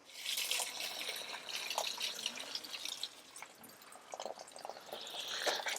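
Water runs steadily while a Blu Tech water softener flushes, a continuous hissing, splashing flow with a few brighter drip-like spatters, fairly close and alone with no talk.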